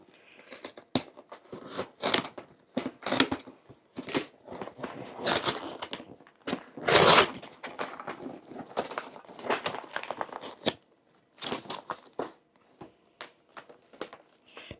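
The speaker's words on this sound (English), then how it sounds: "I'm going to have to just rip the box apart. I brought some scissors here." Tight cardboard delivery box for medication being ripped apart with scissors: irregular bursts of snipping, tearing and crinkling, close and fairly quiet, with short pauses between the louder rips.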